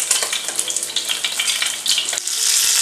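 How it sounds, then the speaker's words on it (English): Szechuan spicy fish fries in a pan over a medium-high flame, a steady close sizzle with crackling spits and pops that swell louder toward the end, no talking. "Okay, the other side, the second side, has been fried for about another 5 minutes."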